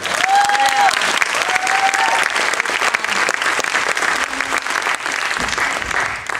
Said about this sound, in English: We're going to now do one more hand round of applause.